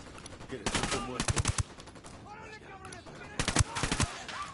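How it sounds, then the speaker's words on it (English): Gunfire in the tactical shooter Ghost Recon Wildlands: two clusters of sharp, rapid automatic bursts, loud and close, separated by a quieter gap filled with chirpy background sounds. "I'm opening fire."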